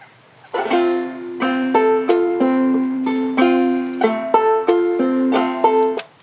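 A clawhammer banjo plays a drop-thumb pattern without the skip in the style of the tune Wild Bill Jones, giving a steady bouncing rhythm of plucked notes and brushed strums, close and clear with no talking.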